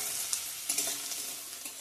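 Onions sizzle steadily in a pan as they fry toward light browning, a dense hiss with a few soft clicks of stirring, fairly quiet and with no voices.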